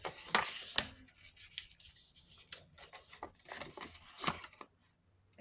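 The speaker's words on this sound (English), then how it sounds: "Scissors." Scissors snip through fabric or yarn while working on a sea-themed tam, sharp cuts arriving in quick irregular bursts close to the ear, separated by short pauses and soft rustling of the material.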